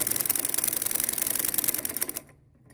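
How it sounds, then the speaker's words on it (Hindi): A sewing machine runs a fast, even stitch along a decorative design on a poncha hem, a close rapid clatter that continues steadily before stopping abruptly near the end. "अब बतौर डिज़ाइन में इसके ऊपर एक और मशीन की सिलाई लगाऊंगी"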